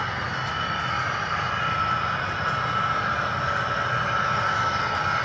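A model train on third-rail track rolls steadily past, a continuous broadband rumble and whir that holds even and close for several seconds with no voices.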